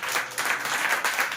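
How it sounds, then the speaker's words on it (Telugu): Loud, steady clapping from a church congregation at a night children's worship gathering in Ponnur, a dense continuous patter with no voices over it. "గట్టి చప్పట్లు కొట్టండి"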